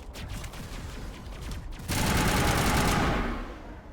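Weapon fire in Mass Effect Legendary Edition, dense rapid shots building into a loud sustained burst halfway through, then tapering off near the end.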